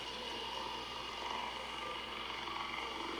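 Steady whirring drone hum from an ARC Raiders game drone flying nearby, a continuous buzzing drone with no talk over it.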